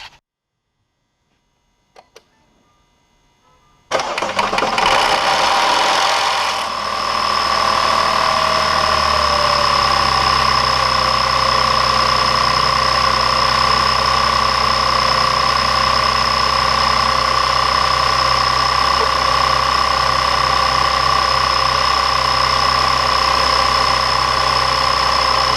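An Audi 3.2L FSI engine cranks and fires after an upper timing chain tensioner repair, then settles into a loud, steady, even idle with a constant drone and no talk over it.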